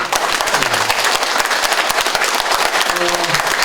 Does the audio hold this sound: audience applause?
yes